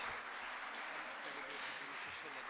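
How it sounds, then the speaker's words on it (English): Audience applause at the Physicon Raj 2025 medical conference at Dr. S. S. Tantia Medical College, a steady wash of many hands clapping at moderate distance, fairly even throughout with no pause. "please felicitate PSI President with a huge round of applause"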